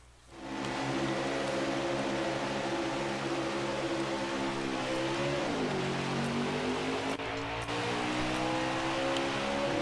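A NASCAR Heat 5 race car engine roars at Daytona in the video game, holding a loud, steady drone that dips briefly in pitch near the middle before climbing back, with no talk over it.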